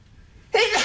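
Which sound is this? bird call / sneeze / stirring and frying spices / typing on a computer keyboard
sneeze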